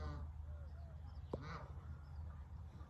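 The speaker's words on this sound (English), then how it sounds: "I'm enjoying listening to some geese." Geese call at a park in a few short honks and quacking notes scattered over a soft outdoor background, fairly faint and distant, with one sharper, louder call near the middle.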